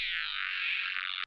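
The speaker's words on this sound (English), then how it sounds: "The first one was that EQ'd bass from Serum" A synthesized bass note from the Serum synthesizer, shaped with EQ, holds steady as one continuous buzzy midrange tone for just over a second before cutting off abruptly.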